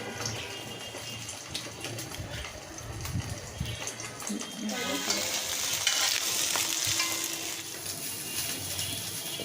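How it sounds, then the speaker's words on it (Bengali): Eggs fry in a pan with a soft, steady sizzle, broken by scraping and stirring, and a brighter hiss builds partway through. "তো দেখো আমরা ডিমগুলো ভেজে নিচ্ছি"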